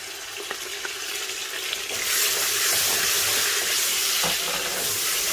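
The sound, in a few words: frying soya chunks with ginger garlic paste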